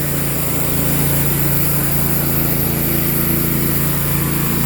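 Faulty sawmill motor running under load, a steady loud droning hum with a strong low tonal whine and broadband engine noise, continuous and close with no talk.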